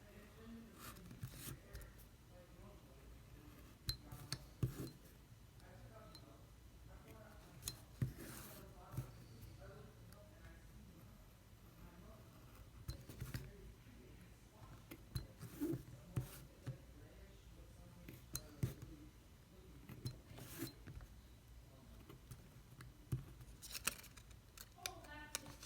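Scissors snip through thin paper parts for a Starship and Raptor engine paper model, faint, scattered cuts with small clicks under soft, intermittent talking.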